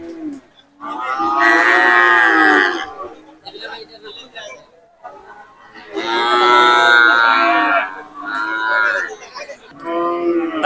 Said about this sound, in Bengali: এদিকে আর কি একটু ছোট সাইজের গরুগুলা